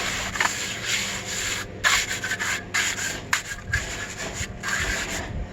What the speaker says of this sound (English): You want to wiggle back and forth if you're using a pool spreader, and really kind of push it in.